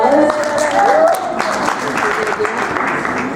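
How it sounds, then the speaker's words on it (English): Conference attendees at a psychodrama keynote give a round of applause, a broad wash of clapping from a large room with voices talking over it. "You can give yourselves a round of applause"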